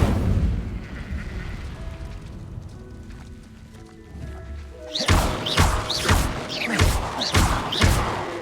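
Incendio fire spell cast in Hogwarts Legacy: a rumbling low bed gives way at about five seconds to a loud run of sharp blasts and crackling bursts, repeated roughly every half second until the end.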